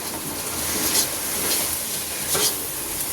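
Chili powder and vegetables fry steadily in a hot pan, giving a dense, even sizzle with a few brief louder hissing swells and light stirring, with no voices.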